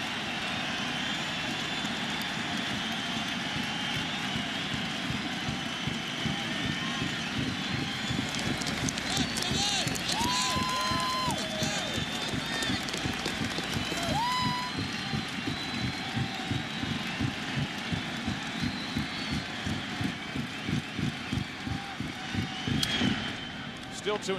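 Large crowd at Fenway Park roaring during the 2004 World Series between the Red Sox and Cardinals on a raw night, a sustained dense wall of cheering that holds steady with rhythmic stamping or clapping underneath.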